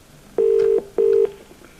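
A telephone ringing tone on a phone link-up: two steady, even electronic buzzes in quick succession, clear and alone with no voices.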